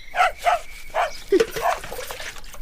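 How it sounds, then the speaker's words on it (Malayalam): A dog barks close by in a household setting, giving several loud, separate barks in quick succession, followed by softer whimpering sounds. "ഒരു പട്ടി. ഓ, വെട്ടി വിഴുങ്ങാനൊന്നും തന്നിട്ടില്ലെന്നറിയാം. കിടന്ന് കുരയ്ക്കണ്ട."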